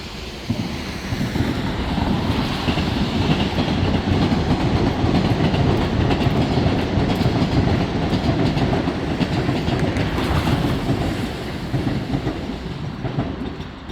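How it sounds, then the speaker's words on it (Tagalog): A train passes close by in the rain, a loud continuous rumble and rush of wheels with a faint clickety rhythm that holds steady for most of the stretch and then eases slightly, with no talking. "ayun may dadaan na train abangan natin doon abang tayo ng train ayan yung train"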